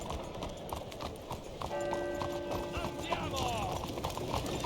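Horse hooves clip-clop at a steady galloping rhythm in the Western video game Red Dead Redemption, close and continuous, with a faint tonal musical or mechanical hum joining midway.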